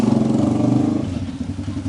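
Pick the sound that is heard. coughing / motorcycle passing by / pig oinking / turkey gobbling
motorcycle passing by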